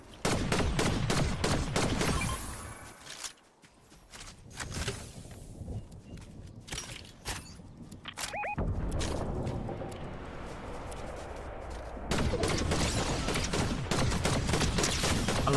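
Gunfire rattles in bursts in Fortnite, loud volleys at the start and again near the end, with quieter scattered shots and footsteps in between.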